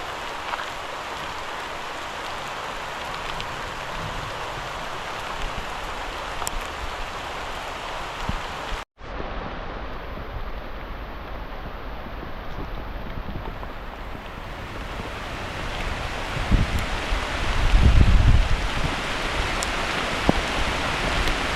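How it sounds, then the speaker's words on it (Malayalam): Heavy summer rain pours steadily with a dense, hissing roar, briefly cut off once, then continuing with some louder gusts and drumming near the end. "നല്ല മഴ"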